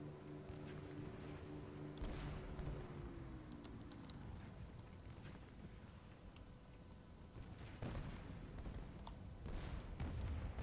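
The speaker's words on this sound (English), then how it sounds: "Don't we all just love the sound of flak?" Anti-aircraft flak bursting around a bomber in War Thunder, a steady rumbling barrage of dull booms with sharper bursts near the start and again toward the end, over continuous engine drone.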